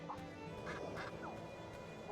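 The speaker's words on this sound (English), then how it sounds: "Quack, quack." A duck in a video game quacks in a quick run of short, nasal calls, close and clear over a low background hum.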